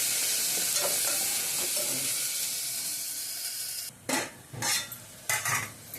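Tomato and coriander frying in a pan give a steady, dense sizzle, then a few loud bursts of spatula scraping and stirring near the end, with no talk.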